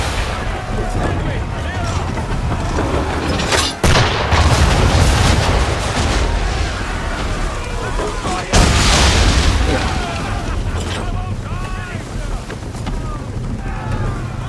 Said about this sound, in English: That's not a puckle gun. Swivel gun.